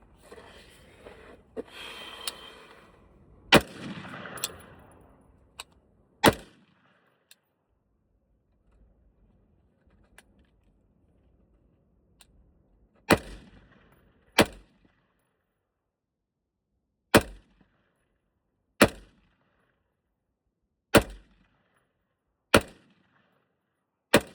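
A KS-3 gun fired repeatedly outdoors. About a dozen sharp, loud shots ring out at uneven intervals, some in quick pairs, with quiet gaps and faint background noise between them.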